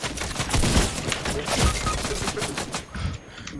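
Rapid, dense bursts of gunfire from a shooter video game crackle continuously and loudly at close range, with no talking over them.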